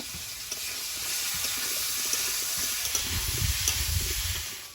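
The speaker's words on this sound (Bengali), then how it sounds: "সবজিটা ভাজা হয়েছে এবার জল দিয়ে দেবো" Steady sizzling hiss of vegetables frying in oil, with soft scraping and stirring clatter growing busier toward the end; no voices.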